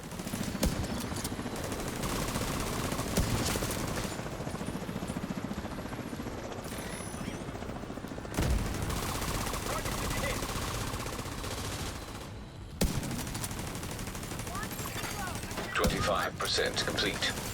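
Video game gunfire, dense rapid bursts of automatic shots with explosive rumble layered throughout, loud and continuous with a few brief gaps, while a voice talks intermittently.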